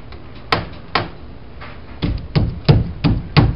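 Several sharp hammer blows, close by, driving a support under ceiling joists, coming in an uneven rhythm with short pauses and a quicker cluster near the end.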